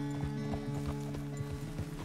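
Horse hooves clip-clop in Red Dead Redemption 2 as the horse is ridden, a quick, regular beat of close hoof strikes over a steady low game drone, with a brief whinny-like sound mixed in.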